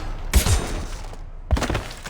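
Gunfire in the Mass Effect 2 video game: two loud bursts of rapid shots with heavy low thumps, separated by about a second of quieter background.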